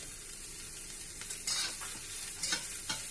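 Minced garlic, ginger and onion sauté in a pan for a zucchini and minced pork dish: a steady close sizzle with a few scraping stirs of a spatula, no talking.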